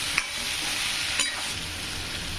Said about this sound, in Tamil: ஒரு 3 நிமிஷத்துக்கு இதுலேயே நல்லா ஃப்ரை பண்ணலாங்க.